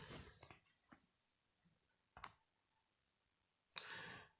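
A few sparse, sharp taps sound on a mobile phone screen, separated by quiet gaps, close and soft.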